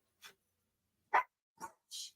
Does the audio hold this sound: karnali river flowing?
no